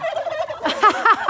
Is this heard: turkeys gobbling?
yes